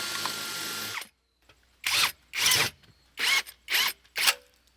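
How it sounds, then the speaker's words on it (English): A masonry bit drills holes into concrete block in several short bursts, each a loud, close grinding whine lasting about half a second, following a steadier mechanical hum that cuts off. "I've got a masonry bit. I'm going to put holes in the 4 corners."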